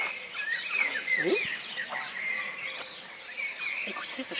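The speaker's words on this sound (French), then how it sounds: "Écoutez le chant des oiseaux" Small birds such as swallows chirp and tweet in repeated short, bright calls, moderately close, over a steady outdoor background hiss, with no talking.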